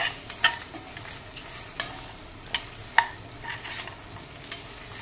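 A spoon stirs coriander, cumin and red chilli powder in a pan while making a coconut egg curry, giving soft repeated scraping clicks over a faint steady sizzle, close and fairly quiet.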